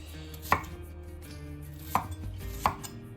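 A knife chopping a bell pepper into cubes on a cutting board for a rustic ratatouille, three crisp, evenly spaced thuds at close range over a faint steady kitchen hum.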